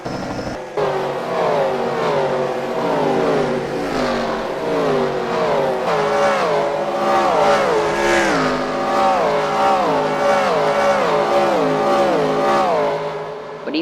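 Race cars in a racing video game circulate on an oval track, a continuous loud layered engine whine with several cars rising and falling in pitch together as they accelerate and change gear.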